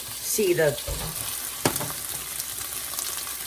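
Chicken fried rice cooking in a pan on high heat on a large burner: a steady hiss of sizzling with a sharp clatter partway through, and a short burst of voice near the start.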